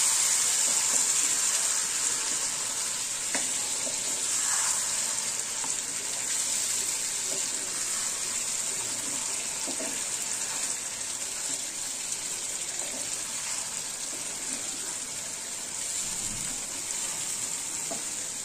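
Chicken in yogurt paste fries in a pan, a constant bright hiss and bubbling sizzle with faint stirring knocks, steady and close for the whole stretch, no voices.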